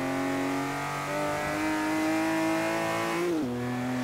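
A TVR Sagaris with a naturally aspirated straight-six, driven in Forza Horizon 3, accelerates smoothly with a steady, rising engine drone, briefly dipping in pitch at a gear change before pulling on.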